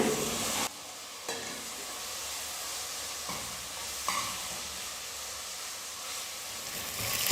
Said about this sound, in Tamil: ரெண்டு தக்காளி பழம் எடுத்து கட் பண்ணி வச்சுருக்கேன் இப்போதையும் சேர்த்து வதக்கிக்கிறேன்